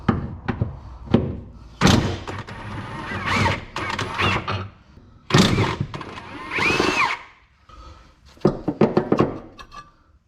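Tools work on a car's transmission crossmember bolts while the transmission sits on a floor jack: loud metallic clanks, thunks and short ratcheting or power-tool bursts in uneven spurts, close by, with quiet gaps between.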